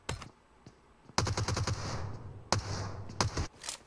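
Automatic gunfire traded between squads in a PUBG Mobile esports match, heard as rapid bursts of rattling shots at moderate distance, with a longer volley, a short pause, then more bursts.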